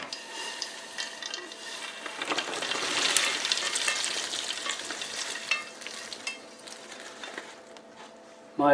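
Peruvian cancha corn kernels toast in a pan, giving a busy rattling sizzle with kernels shifting and tapping against the metal. The sound builds and then eases, with a brief louder clatter at the end.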